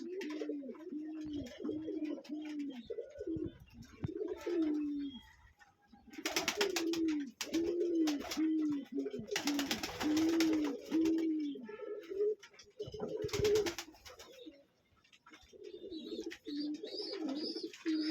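Pigeons, including racing pigeons, coo repeatedly nearby in a loft while eating grit, soft throaty calls in overlapping bursts, with occasional rustling and wing flutters between them.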